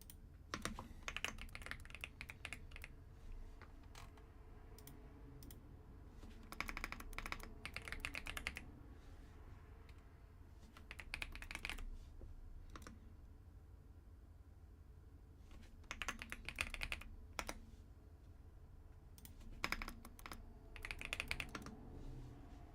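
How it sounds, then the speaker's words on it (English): Fast typing on a computer keyboard comes in bursts of rapid clicking keystrokes with short pauses between them, fairly close and moderately quiet over a low steady background hum. "I was typing so damn fast, I put 2 T's in Scarlet."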